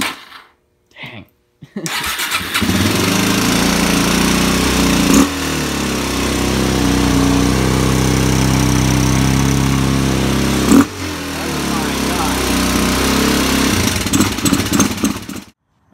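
A Suzuki DRZ400 supermoto motorcycle engine fires up after a couple of brief cranking attempts, then settles into a loud, steady idle with short revs, recorded up close.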